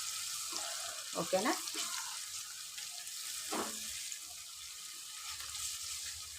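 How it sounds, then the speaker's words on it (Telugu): Ginger paste frying in hot oil in a pan for a beans and tomato curry, giving a steady, soft sizzle with a few stirring scrapes and a brief spoken word. "కొంచెం అల్లం పేస్ట్ ఆయిల్లో అయితే ఫ్రై అవ్వాలి"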